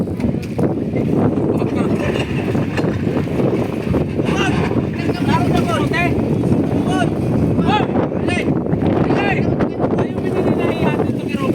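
Strong, steady wind roars across the microphone at a seaside pier with a constant broadband rush, while fishing boat engines drone and voices talk intermittently underneath.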